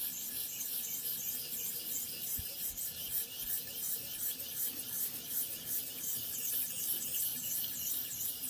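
A Civivi Mandate knife blade scrapes against a ViperSharp sharpener in a steady, continuous rasping rhythm, close and fairly loud with no talking.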